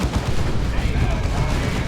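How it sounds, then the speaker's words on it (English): Lascannon and artillery fire in the Warhammer 40,000 strategy game Dawn of War 2, a dense, continuous roar of booming blasts and rattling shots with a voice faintly mixed in. "They do go full on las cannon to take care of this Razorback."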